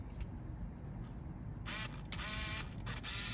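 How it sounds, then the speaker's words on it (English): Shutter of an Olympus Oz80 compact film camera firing on its self-timer, a few short mechanical whirs and clicks in quick succession, close and clear against a quiet hiss. "It's going to fire the shutter after 10 seconds."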